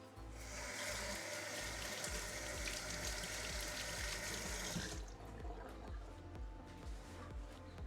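A tap runs steadily with a broad hiss of water, then the flow changes and splashes irregularly as a courgette is rinsed beneath it.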